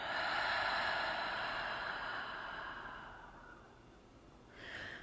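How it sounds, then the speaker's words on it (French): A long, deep exhale through the mouth during a guided yin body-scan meditation, a breathy rush that fades over several seconds, followed by a brief softer breath near the end, heard close and alone. "Et expire complètement par la bouche."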